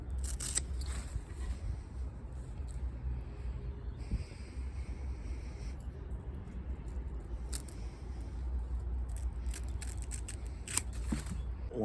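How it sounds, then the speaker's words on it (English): Stems of Chinese artichoke are snipped off just above the harvested bulbs, giving soft, scattered cutting snips against steady low outdoor background rumble and light handling noise. "all I'm going to do is just cut them off just above that bulb"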